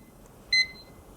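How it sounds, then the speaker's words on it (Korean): A kitchen timer set during a spaghetti cooking lesson gives one short, clear electronic beep in an otherwise quiet room. "타이머를 1분 동안 맞춰줄래요?"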